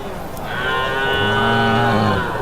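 A native cow bellows at the large Madrapalli livestock market, one long, loud, close moo that swells and holds for about two seconds.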